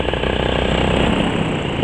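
A powered paraglider's motor runs steadily before launch, a loud, continuous droning roar close by with no talking.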